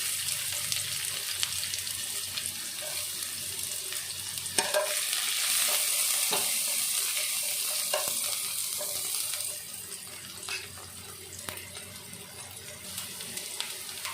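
Onions hit hot oil in a pan for an Odia pomfret fish curry, sizzling and crackling continuously, with occasional clacks of a stirring utensil and a hiss that eases toward the end.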